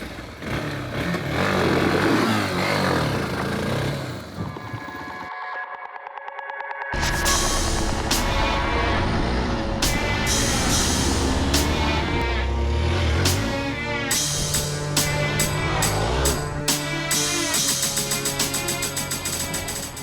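Hero XPulse 200 4V motorcycle engine while riding, a loud continuous drone with rising and falling revs and gear changes, plus a brief dropout midway, with no talking.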